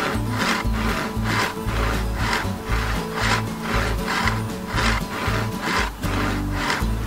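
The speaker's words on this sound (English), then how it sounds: "I'm going to start a cut with the crosscut saw here." A crosscut saw works through bamboo marked at 175 centimeters, giving a steady rhythm of loud rasping strokes, about seven back-and-forth passes, close by with no talking.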